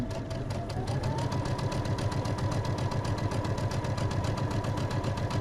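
A sewing machine stitching quilt pieces, running continuously with a fast, even mechanical chatter and motor hum, close and steady throughout with no talk.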